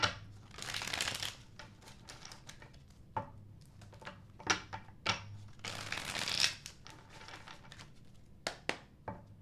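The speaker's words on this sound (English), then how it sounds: "Last shuffle." A tarot deck is shuffled close up in a quiet room, producing crisp riffling and sliding card sounds in repeated bursts, with sharp taps and snaps between the shuffles.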